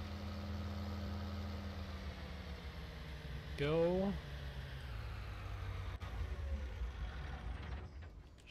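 A tractor engine idling in Farming Simulator 19, a low steady rumble throughout with a brief rising whine partway through, under a man's speech.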